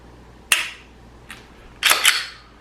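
A Glock pistol fitted with a Timney Alpha trigger is dry-fired, giving sharp, crisp close-up clicks: one loud click, a fainter one, then a quick double click.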